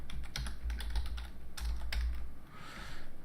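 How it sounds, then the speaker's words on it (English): Quick bursts of keystrokes on a computer keyboard, close and clicky, in two short runs of rapid typing separated by a brief pause. "I have to type it in."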